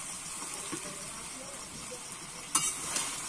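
Drumstick and potato pieces are poured into a hot pan together, giving a soft, continuous sizzle with a sharper burst of crackle near the end.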